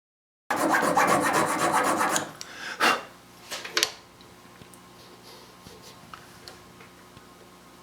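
A file rasps steadily across a guitar nut on an Ovation Legend acoustic, loud and close for about two seconds, then a few separate shorter strokes and light ticks follow before it trails into quiet.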